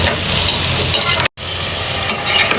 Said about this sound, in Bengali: এবার হচ্ছে সুন্দর করে এগুলো কষিয়ে নিচ্ছি।